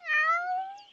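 A cat gives a single clear, drawn-out meow, close and loud, rising and then fading smoothly over about a second with no other sound around it.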